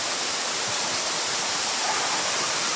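Panas Falls waterfall in New Corella, Davao del Norte, roaring as a dense, constant rush of falling water heard up close, steady and unbroken with no talk.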